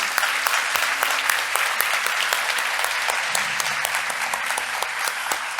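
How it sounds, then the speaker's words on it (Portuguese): A church congregation claps for Jesus in a dense, lively round of applause, many hands striking quickly and steadily, loud and close, with a low hum running beneath. "Quem quer dar uma salva de palmas para Jesus?"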